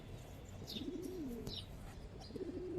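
A pair of silver gribaz-coloured pigeons for sale coos softly with rolling, wavering calls close by, while faint chirps of other birds sound in the background.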